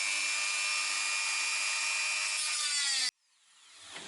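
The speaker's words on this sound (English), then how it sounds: "I've cut a bit of plastic off that was in the way." A power tool cuts through plastic on a homemade prop plasma rifle, a steady high-pitched grinding whine running for about three seconds before stopping abruptly, followed by a faint spin-down.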